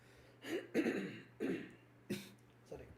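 A person coughs repeatedly in a short burst of about five harsh coughs, close to the microphone and fairly quiet overall.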